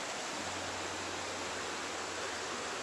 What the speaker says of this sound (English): you can probably hear the water because I don't know if you can see it.